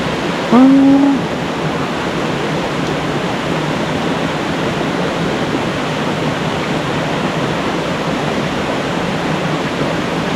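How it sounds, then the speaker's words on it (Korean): Steady, broad rush of a waterfall on Seoraksan, South Korea, fills the whole clip at a constant level, with a brief faint tone near the start. "첫 번째 폭포."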